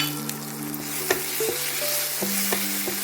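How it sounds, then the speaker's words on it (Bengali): Spices stirred in a hot frying pan with sugar, coriander-cumin powder and garam masala for raw banana kofta curry, a steady sizzle with intermittent scraping clinks of the spoon against the pan. "দিয়ে ভালো করে নাড়াচাড়া করে"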